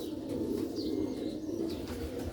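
A red pearl-marked Sialkoti pigeon cooing close by, a low continuous throaty murmur alone with faint ambient noise.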